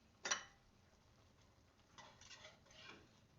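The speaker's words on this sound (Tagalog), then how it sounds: "ay naguhugas pa nga ako dito ng pinggan." Plates clink while dishes are washed in a kitchen during cooking, one sharp ceramic knock followed by softer rattling and scraping, faint and close.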